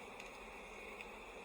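Bees buzzing on full beehive frames in a cold subarctic fall apiary, a faint, steady low hum with a couple of brief louder passes of individual bees.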